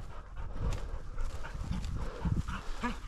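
A hunting dog out in the field pants and breathes heavily up close, with low snuffling bursts and rustling, alone without talk.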